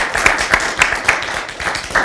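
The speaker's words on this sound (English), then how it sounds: "Let's have another big round of applause from the folks" Audience applause after a presentation on a conference main stage, a dense steady patter of many hands clapping at close range with no talk over it.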